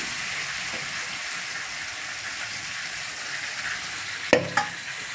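Hilsa fish pieces fry in a pan with a steady, even sizzle close by, ending in a couple of sharp clacks as the pieces are handled.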